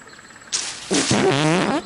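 A cartoon fart from an animated reality-competition show, a loud, close, sputtering blast that rises into a long rippling, buzzing burst lasting about a second.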